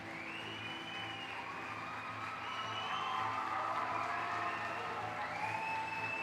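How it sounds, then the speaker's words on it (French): Steady applause from a theatre audience at the close of a play about jihad and radicalisation in Belgium, a dense continuous patter of many hands that swells slightly partway through, with faint crowd murmur beneath. "Vous avez vu, même eux, ils applaudissent parce qu'ils ont peur de se faire virer."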